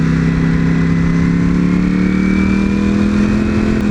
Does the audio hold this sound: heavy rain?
no